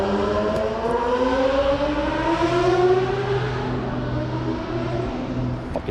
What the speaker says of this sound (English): fucking noisy ass bike